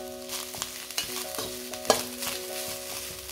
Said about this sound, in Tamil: தேங்காய் வாசனை வர வரைக்கும் ஒரு 5 நிமிஷம் நல்லா வறுத்துக்கலாம்.